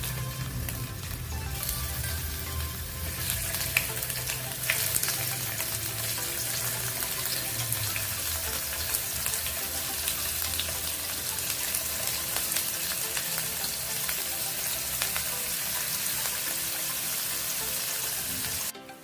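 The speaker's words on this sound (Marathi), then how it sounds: "आपण यात आता पनीर फ्राय करून घेऊया" Paneer fries in about two spoons of hot oil in a pan, a continuous close sizzle and spatter holding steady throughout, with faint clinks of utensils and no talking.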